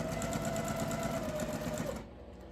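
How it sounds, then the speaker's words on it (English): A sewing machine stitches a quilt block at steady speed for about two seconds, its needle chattering in a fast, even rhythm, then stops and leaves quiet room tone. "put right sides together, and start sewing"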